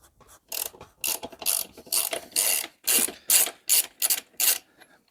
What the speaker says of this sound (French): on va venir desserrer la roue. Donc de ce côté-là, j'ai pris un cliquet avec du 22